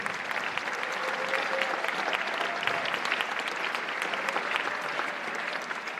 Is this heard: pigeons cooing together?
no